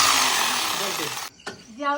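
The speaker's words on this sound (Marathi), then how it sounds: "ड्रिल मशीन पण आहे आपलं" A power drill whirs loudly and steadily for about a second, then cuts off as a voice starts talking.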